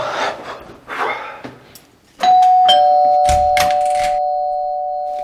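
Electronic doorbell chiming indoors, a loud sustained two-tone ring that starts after some faint rustling and slowly fades out.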